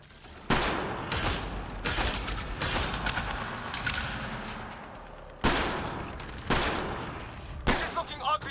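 Gunfight in a gun battery in Mass Effect: Andromeda, with bursts of close automatic gunfire and sharp shots that come in clusters, separated by echoing lulls.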